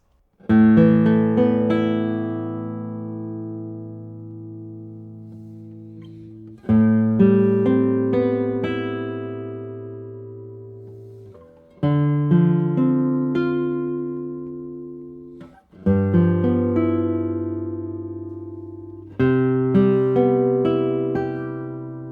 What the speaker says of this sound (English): But let's see how this guitar sounds.